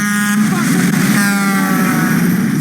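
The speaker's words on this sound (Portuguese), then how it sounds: "Então, põe o caminhão aí de novo, vai" A loud engine sound effect, tagged more like a car or motorcycle revving than a truck, plays on a Brazilian football talk show, a steady droning roar with tonal harmonics lasting a few seconds without speech.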